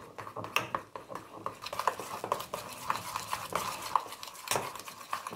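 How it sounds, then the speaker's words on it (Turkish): Spoon stirring lotus biscuit cream together with regular cream into a sauce, giving a steady run of soft scraping and clinking strokes against the bowl, close and fairly quiet with no talking. "Şimdi lotus kremasıyla normal kremayı karıştırıyorum."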